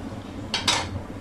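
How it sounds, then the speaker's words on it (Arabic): Brief metallic scrapes of a spoon stirring two garlic cloves frying in ghee in a pot, two quick close strokes over a faint background sizzle. "بجيب فصين ثوم في السمنه يصفروا والريحه الحلوه تطلع"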